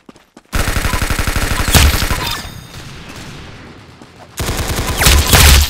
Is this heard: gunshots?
yes